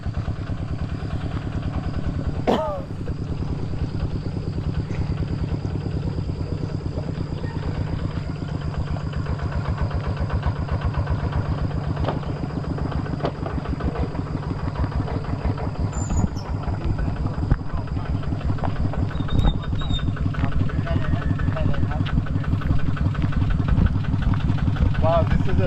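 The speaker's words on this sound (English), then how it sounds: "I think I hear the vehicle coming to pick us up." A small E-Tech farm vehicle in Loei Province, Thailand, its engine idling steadily at close range with a chugging, rattling thump that carries on throughout, while people talk nearby.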